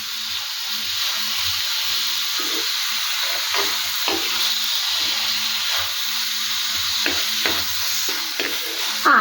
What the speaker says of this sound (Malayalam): ഏകദേശം ഉള്ളി ഒന്ന് വഴന്നു